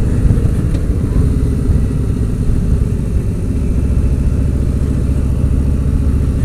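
A Harley-Davidson motorcycle rides along a scenic country road, its engine a steady, loud, low rumble with a throbbing exhaust note throughout and no talking.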